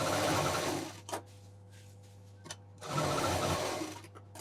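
A sewing machine stitches fabric for a travel handbag made from leftover cloth, running in two steady bursts with a constant motor hum and a quieter pause between them.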